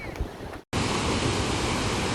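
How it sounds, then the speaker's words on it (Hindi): Water tumbles steadily at the Muradiye waterfall in Turkey, a loud, continuous roar that starts after a brief lull and carries on unbroken, with faint wind noise earlier. "यहाँ पानी गिर रहा है"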